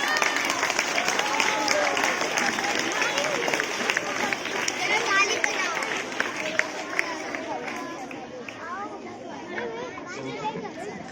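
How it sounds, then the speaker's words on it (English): A crowd at a school Independence Day event gives steady, loud applause with children's chatter and voices mixed in, dense and continuous throughout before tapering slightly near the end. "Give a huge round of applause."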